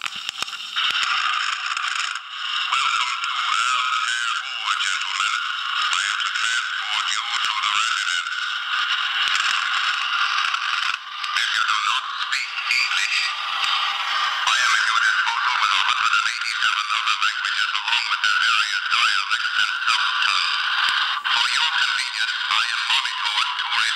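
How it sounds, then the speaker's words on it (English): Inside a Masudaya Robby robot toy, a motor-driven talking record player spins a physical record with needle and diaphragm, giving a steady, thin, nasal mechanical warble and whir that runs continuously, close and fairly loud. "It's a physical record, spinning record player, and needle and diaphragm, motor driven."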